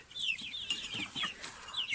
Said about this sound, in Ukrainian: Бачу, що півників багатенько є